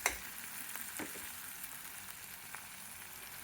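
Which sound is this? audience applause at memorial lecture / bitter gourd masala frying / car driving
bitter gourd masala frying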